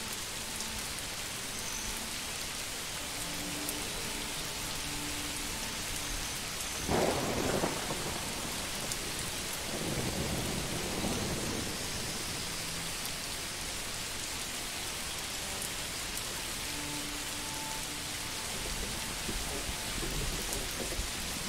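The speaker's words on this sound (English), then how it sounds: "Now it's thundering." Thunderstorm in the Manor Lords video game, with steady rain hissing throughout and two rumbling thunder rolls in the middle, heard alone with no talk.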